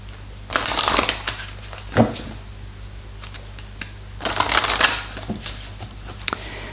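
Tarot cards are shuffled by hand in two crisp, riffling bursts with a sharp tap between them, close and clear over a steady low hum, with no talk.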